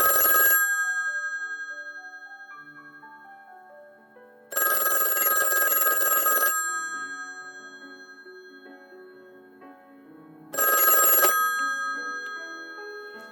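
Old-style telephone bell ringing in a narrated story, three loud ringing bursts separated by quiet gaps, with a faint piano-like tone between rings.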